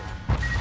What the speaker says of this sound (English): They got a missile on me before I could launch my missile